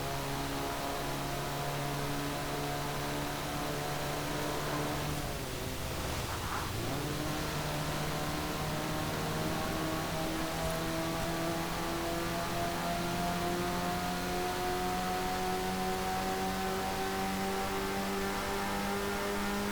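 A 1979 Triumph TR7 Roadster, US spec, in the Forza Horizon 4 racing game, its engine droning and climbing steadily through the revs, with a brief dip and recovery partway through, loud and continuous with no talk.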